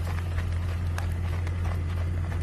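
A trail horse, a flea-bitten grape paint, walks with steady clip-clopping hooves, fairly close, over a constant low hum.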